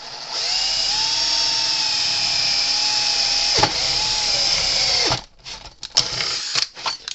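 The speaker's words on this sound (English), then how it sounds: "we're going to drill straight down" A power drill whines steadily at high speed for several seconds drilling into metal on a fence charger, then stops, followed by clattering and scraping handling noises nearby.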